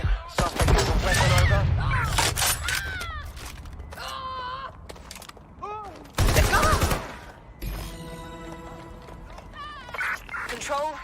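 Shotgun blasts and a rattle of gunfire erupt in a street confrontation in the video game Watch Dogs Legion, loud and close, with shouting voices and game effects layered over the shots.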